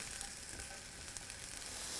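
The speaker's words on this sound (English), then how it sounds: "We are now going to prepare the champignon, the mushroom, by sautéing them 5 minutes in sizzling butter." Soft, steady sizzling of mushrooms sautéing in butter in a pan, a continuous crackling hiss with faint pops, fairly quiet and close, no voices.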